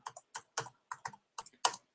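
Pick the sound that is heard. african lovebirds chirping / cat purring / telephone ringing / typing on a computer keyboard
typing on a computer keyboard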